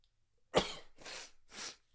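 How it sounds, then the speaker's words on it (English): A single explosive sneeze bursts out close to the mic, followed by two shorter breathy exhalations, during a quiet moment of a live stream. "I have to sneeze right now"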